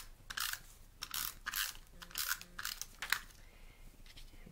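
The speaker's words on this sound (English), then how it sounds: "Bring in my snail adhesive." A snail-style adhesive tape runner is rolled across a card layer in several short bursts, giving crisp, close clicking and ratcheting strips of tape with brief pauses between strokes.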